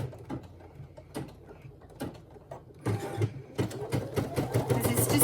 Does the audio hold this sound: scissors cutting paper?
no